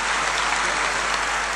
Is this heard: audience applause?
yes